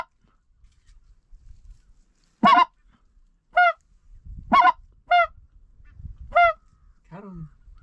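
Blue geese honk over a rainy dry rice field in Louisiana during a goose hunt: about six clear, separate nasal honks spaced a second or so apart, with faint low rumbles between them.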